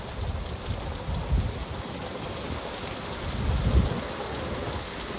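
Heavy rain pouring steadily in a storm, a loud broadband hiss with low gusty rumbles swelling now and then, no voices.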